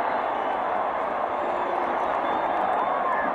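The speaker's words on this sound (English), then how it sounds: "And Texas is applauding as if the penalty's on Brigham Young" A football stadium crowd at a 1988 Texas versus BYU college game applauding, a dense, continuous roar of clapping and cheering filling the whole moment at steady loudness.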